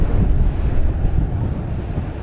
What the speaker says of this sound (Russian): А ветер довольно-таки сильный.